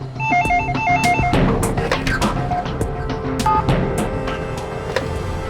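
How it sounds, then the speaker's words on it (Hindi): A telephone rings with a repeated electronic double-tone trill in an indoor office setting, clear and fairly loud, followed by clattering sounds and background noise. "सर फोन तो यहीं छोड़ के गई। तो भी फोन उठाओ"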